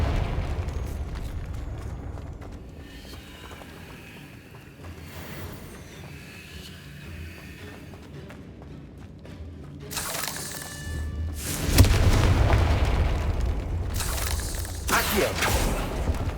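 A Confringo fire spell bursts in Hogwarts Legacy, with a loud booming explosive blast and crackling rumble that swells midway and lingers, over low game ambience and music.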